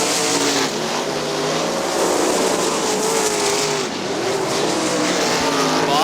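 Sprint cars from an outlaw sprint series roar around a speedway oval, a loud continuous engine drone rising and falling as cars pass, with faint tire noise and no talk over it.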